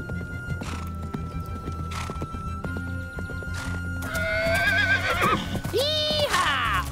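A horse in an animated children's firefighting and rescue story whinnies loudly twice in high, wavering neighs near the end, after a stretch of steady clip-clopping hooves over a low background hum.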